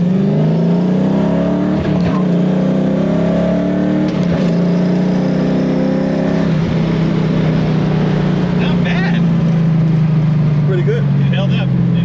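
Inside a 1965 Ford Mustang with a 302 V8 and four-speed manual on a test drive, the engine drones loudly and climbs in pitch as the car accelerates, easing back before building again, with voices faintly under it.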